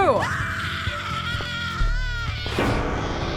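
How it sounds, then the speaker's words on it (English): A woman screams in the background of The Cat Lady horror video game, her high wavering cries falling and rising over a dark, droning game soundscape, with a loud swell near the end. "There's a screaming woman in the background."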